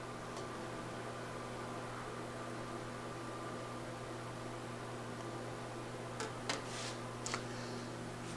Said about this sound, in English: I need to get some butter in the microwave to get it melted.